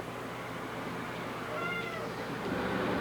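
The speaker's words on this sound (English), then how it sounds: "This is our cat room. This is where we put the stray cats that are ready to go home" Stray cats meow in a shelter cat room, with a faint cry rising over a constant, noisy background hum partway through.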